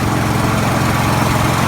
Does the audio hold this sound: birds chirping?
no